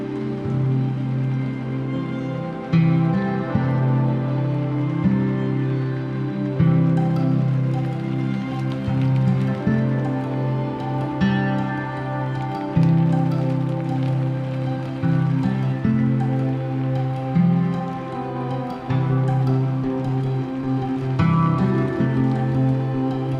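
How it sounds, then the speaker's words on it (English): Steady rain falling outside a window, a dense continuous patter with soft scattered drips, moderately loud and unbroken throughout. "with the sound of rain in the background"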